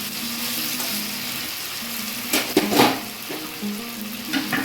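Mutton frying in a pan for a Bengali-style kosha curry, a steady close sizzle with clinks of a spoon stirring against the metal pan and a few louder scrapes partway through.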